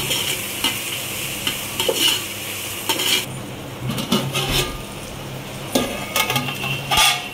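A spoon stirs whole garam masala in a pot for vegetable biryani, giving scraping, clinking strokes over a steady sizzle, close and fairly loud.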